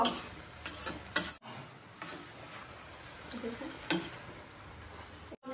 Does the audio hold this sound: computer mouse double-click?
no